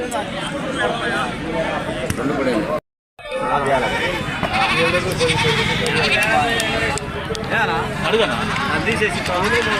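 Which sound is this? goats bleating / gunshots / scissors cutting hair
goats bleating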